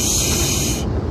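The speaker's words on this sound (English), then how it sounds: "So, I'm going to spray your hair first." A steady, close hiss of an aerosol hairspray spraying continuously for about a second, then cutting off.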